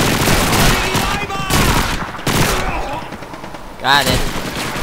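Sustained bursts of suppressing automatic gunfire from a World War II shooter game, Call of Duty 2, rattle loudly in repeated volleys with short pauses, while someone speaks briefly over the shooting.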